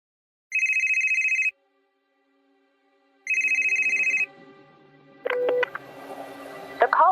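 Telephone ringing before voicemail answers: two electronic rings, each about a second long and separated by a pause, followed by clicks and a brief burst of line noise.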